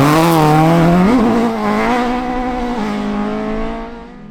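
A 2.5-litre Ford Escort rally car and a 2-litre rival race on a stage, one engine loud and close with a strong rising-then-falling tone that fades slightly at the end, no talk.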